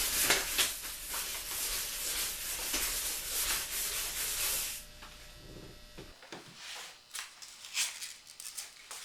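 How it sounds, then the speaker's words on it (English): Fine automotive emery cloth rubbed over a steel rifle barrel from a .32 squirrel rifle kit, a dense close scratchy hiss in steady strokes that stops abruptly partway, leaving faint intermittent rubbing. "this is a very fine automotive polish emery cloth I'm using here"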